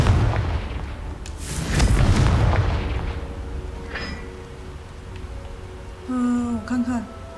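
Confringo spell blasts in the video game Hogwarts Legacy: a loud booming burst with rumbling decay near the start, a smaller pop around four seconds, then bright chiming spell effects at the end.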